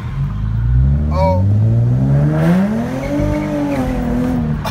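Infiniti G37 fitted with ISR test pipes revs loudly up close, its raspy exhaust note rising and sweeping through a long pull, with a brief chirp partway and excited voices faintly behind.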